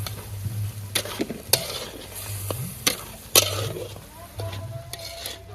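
Tomato and onion gravy fries in a pan as salt, chili powder and garam masala are stirred in, with soft sizzling beneath repeated scraping and clattering strokes of a spoon against the pan, close and moderately loud.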